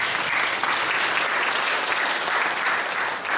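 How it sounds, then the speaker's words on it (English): A funeral service congregation applauds steadily, a dense, even wash of clapping hands from a full room holding at a constant level with no voices over it. "Let's give a round of applause for"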